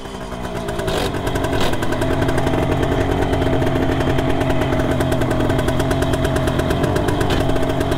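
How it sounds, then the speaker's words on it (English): A 1973 Kawasaki S2A 350 two-stroke triple motorcycle fires up after a few kicks and settles into a loud, steady, crackling run with a dense rapid pulse, close by and without any talk over it. "the triple crackle off this is something else"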